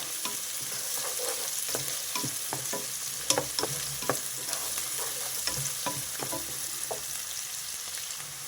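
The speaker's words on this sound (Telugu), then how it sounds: "ఉల్లిపాయలు కొంచెం వేగినాయి ఇవి బాగా రెడ్డిష్గా వేగాలండి" Chopped onions fry for a garlic chicken curry, a constant close sizzle of oil punctuated by sharp irregular spatula scrapes and taps against the pan as they are stirred.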